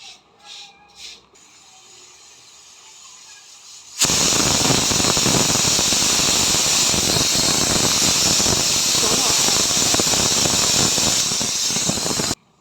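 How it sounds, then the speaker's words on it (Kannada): A pressure cooker whistles while mutton biryani cooks, a loud continuous hissing squeal that bursts in after a few quiet seconds and holds steady until it cuts off near the end. "1 ವಿಷಲ್ ಕೂಗ್ಸೋಣ."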